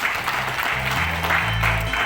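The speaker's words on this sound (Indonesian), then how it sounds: "tepuk tangan dong untuk Herbalife" Audience applause at an Indonesian Herbalife business meeting, a steady wash of clapping from a room of people with a low hum or music underneath, no speech over it.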